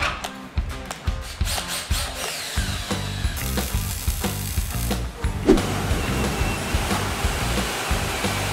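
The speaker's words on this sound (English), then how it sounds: "Rugged, powerful, and easy to use, the 500-pound capacity drill winch does the hard-to-handle pulling" A Warn 500-pound capacity drill winch pulls a load with a rapid, steady mechanical ratcheting and whirring that runs throughout, close and fairly loud, with no talk over it.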